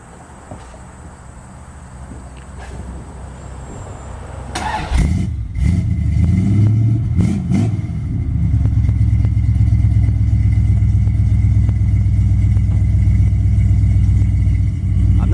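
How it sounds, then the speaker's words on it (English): The 318 small-block V8 engine of a 1977 Dodge Tradesman van with turbo mufflers cranks and fires up with a few revs, then settles into a loud, rumbling idle close by. "I'm gonna start it and let you hear how it runs."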